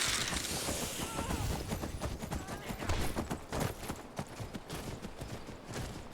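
Horse hooves clip-clop steadily in Skyrim, a busy rhythmic clatter with some sharp cracks mixed in.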